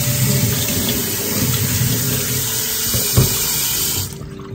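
Tap water runs steadily from a kitchen faucet as beans are rinsed, a loud, constant splashing gush that cuts off abruptly near the end.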